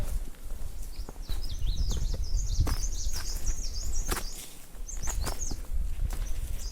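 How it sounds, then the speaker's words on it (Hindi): Birds chirp and warble steadily in a forest along a mountain trail toward Khaliya Top near Munsiyari, with footsteps crunching close by underneath. "चिड़ियों की आवाजें बहुत अच्छी लग रही है"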